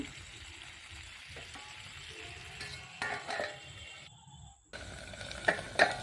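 Taro and potato curry sizzles quietly in a pan on a low gas flame, a soft steady frying hiss with a few light clicks and knocks of a pan or lid toward the end.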